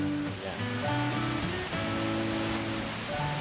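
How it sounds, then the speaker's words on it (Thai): Steady rushing water of Khlong Sai waterfall in Chaiyaphum, Thailand fills the air, a constant broad roar of falling water heard up close with no voices. "ยินดีต้อนรับ น้ำตกคลองไซครับ ถึงแล้วครับ"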